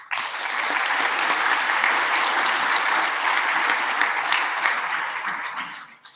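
Sustained audience applause fills a plenary hall at an engineering standards meeting, loud and dense from the start, holding steady for several seconds before tapering off at the end.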